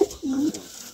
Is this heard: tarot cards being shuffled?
no